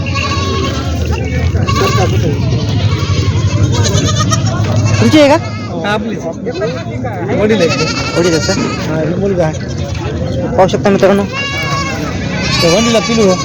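Osmanabadi goats bleat repeatedly at a busy goat market in Vasmat, Hingoli, Maharashtra, the loud, wavering calls overlapping beneath someone talking continuously.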